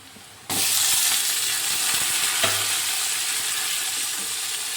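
Onions and tomatoes sauté in oil for a bitter gourd gravy, a loud, steady sizzle that kicks in abruptly, with occasional stirring clicks and scrapes.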